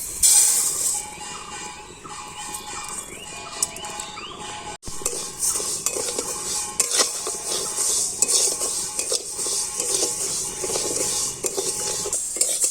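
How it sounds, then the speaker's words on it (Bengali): Moong dal stirred and dry-fried in a wok, a close, steady rasp of grains scraping against metal, with continual spatula strokes and a brief break partway through. "কড়াইয়ের মধ্যে মুগ ডালগুলো দিয়ে দিচ্ছি।"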